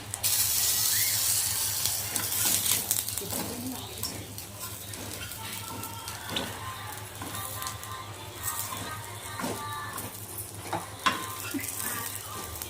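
Fish sizzles in a pan with garam masala while a utensil scrapes and clicks in an irregular rhythm, close and moderately loud over steady frying noise, with a voice faintly present at times.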